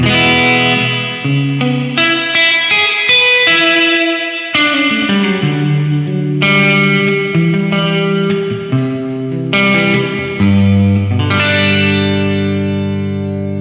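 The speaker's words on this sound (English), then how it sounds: "Now plate is usually a more spacious reverb" Electric guitar chords through a Boss RV-5 digital reverb pedal on plate setting ring out drenched in spacious reverb, each strum blooming and lingering before the next, with no voices.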